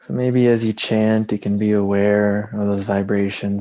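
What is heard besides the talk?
None of the usual background noises is heard.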